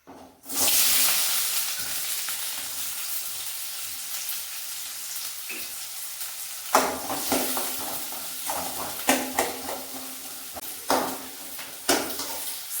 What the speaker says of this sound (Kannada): ನಾನು ಈಗ ಆಯಿಲ್ ಹಾಕಿ ಆನಿಯನ್ ಹಾಕಿದ್ದೀನಿ. ಒಂದು 2-3 ನಿಮಿಷ ಒಂದು ಸ್ವಲ್ಪ ಕಲರ್ ಚೇಂಜ್ ಆಗೋವರೆಗೂ ಕೂಡ ಅದನ್ನು ಫ್ರೈ ಮಾಡ್ಕೊಬೇಕು.